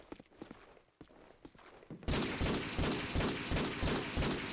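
Gunfire in Call of Duty: Modern Warfare 2 on PC, with scattered single shots and footsteps-like thuds, then a loud, steady rapid burst of repeated shots from about two seconds onward.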